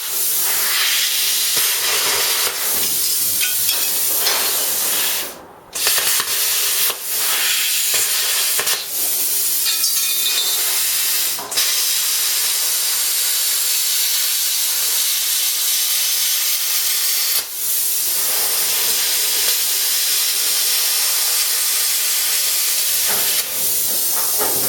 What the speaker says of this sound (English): Just use the old plasma and get rid of the bloody thing